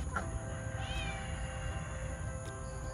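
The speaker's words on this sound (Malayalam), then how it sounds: "പൂച്ചകളെല്ലാം തുറന്നു വിടാൻ പോവാണ്" A Himalayan or Persian cat gives a couple of short meows close by over a low steady background hum. No one speaks.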